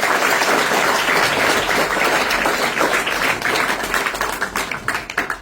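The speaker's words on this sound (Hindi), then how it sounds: "ताली बजाकर" Steady, dense clapping from a large group of schoolchildren at a school in Rajasthan, sustained for several seconds without talking, thinning slightly toward the end.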